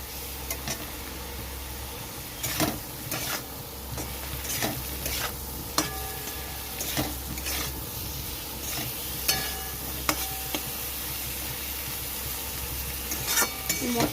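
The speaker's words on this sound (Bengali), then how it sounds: "তো মশলাটা একটু ভেজে নিচ্ছে।" Ground spice mix, cumin powder among it, frying in a pan for a shrimp, eggplant and potato curry: a low steady sizzle broken by repeated sharp scrapes and knocks of a spoon stirring against the pan.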